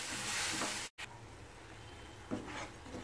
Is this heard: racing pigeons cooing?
no